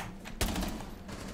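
Gunfire in the video game Rainbow Six Siege: a sharp loud shot bursts out abruptly, followed by a short rattle of further reports and noisy game ambience trailing off.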